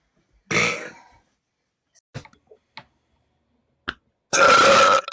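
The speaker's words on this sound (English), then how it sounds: "Let me burp." A woman lets out two loud, drawn-out burps at the start and end, separated by a few faint clicks and small mouth noises in near silence.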